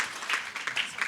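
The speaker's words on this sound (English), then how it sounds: "let's give a round of applause for our moderator" Audience members at a panel discussion on gender-based violence and femicide applaud the panelists, a brief burst of dense, steady clapping from a room full of people.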